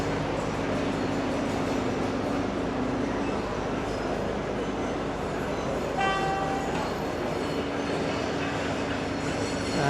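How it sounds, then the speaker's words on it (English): Frankston train pulling into Mordialloc station, a loud steady rumble of wheels and carriages close by with a brief high wheel squeal midway, no talking. "Got a train coming in, which is the Frankston train."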